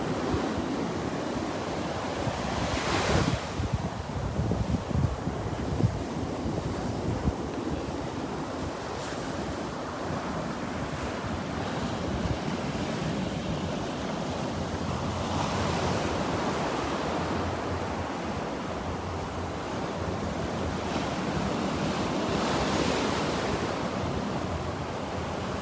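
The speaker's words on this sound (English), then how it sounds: "Beautiful shells on a beautiful beach." Ocean waves wash steadily onto a beach in North Naples, Florida, a continuous surf roar with gentle swells and some wind noise, close and unbroken, with no talking.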